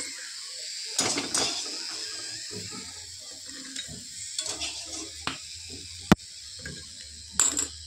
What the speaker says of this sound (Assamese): আৰু এতিয়া মই বাদামকেইটা মই কেৰাহীত দি দিছোঁ।